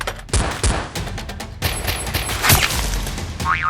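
Nerf guns fire in a Nerf battle: a rapid string of sharp snapping shots with clicks and thuds, close and busy.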